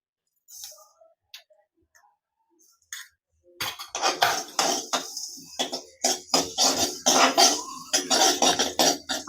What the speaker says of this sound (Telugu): ఆవాలు చిట్పట్ అంతే అయ్యేంత వరకు ఉంచేసి తీసేసుకుందాం.